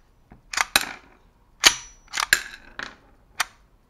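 Bruni 9mm blank gun, a Beretta-style pistol, handled up close: a series of sharp metallic clicks and clacks from the slide and mechanism, irregularly spaced across a few seconds with no talk.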